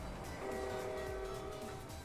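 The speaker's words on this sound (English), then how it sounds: "Whoa, whoa, whoa! The train!" In the Roblox game Jailbreak, a train rolls past with a sustained horn tone and rumbling wheels, heard fairly faint and steady over about two seconds without talk.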